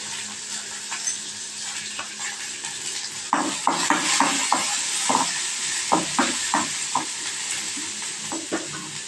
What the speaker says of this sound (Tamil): இந்த சைடில் வெங்காயத்தை போட்டுக்கணும்